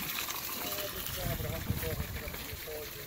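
Jets from a backyard water feature fountain spray straight up in a steady gushing rush, with some splashing and someone talking over it.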